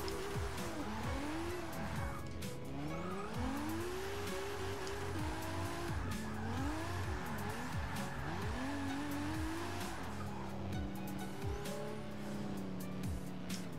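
Tires squeal repeatedly over a steady engine drone as a Toyota Supra races around Silverstone in Forza 6, with wavering pitch sweeps as the car slides through corners.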